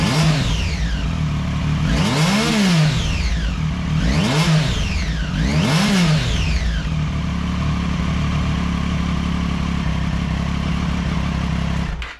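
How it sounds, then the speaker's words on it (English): A Triumph Daytona 675 three-cylinder motorcycle, warmed up, is revved three times in quick rising-and-falling blips, then drops back to a loud, steady idle up close. "So we're gonna wrap this up with a quick little rev"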